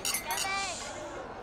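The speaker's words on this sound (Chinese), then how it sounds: "让我们呢一起举杯" Glasses raised in a celebratory toast at a restaurant table, giving a quick bright clink with a short ringing tail, close and clear, while voices carry on around it.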